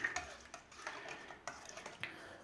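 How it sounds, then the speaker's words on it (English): Marinade for Cuban mojo pork being stirred with a pinch of dry oregano, giving soft, irregular clinks and scrapes of a utensil against a bowl, quiet and close with no talking. "we're just going to give it all a mix in"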